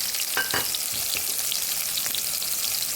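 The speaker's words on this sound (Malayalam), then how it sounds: "ഞാൻ സ്റ്റവ് കത്തിച്ച് എണ്ണ വെച്ചിട്ടുണ്ട്. തക്കാളിക്ക് ഇങ്ങോട്ട് ഇടുവാണ്." Tomatoes and shallots frying in hot oil on a stove give a steady, close hiss of sizzling with a few brief louder crackles, no voices.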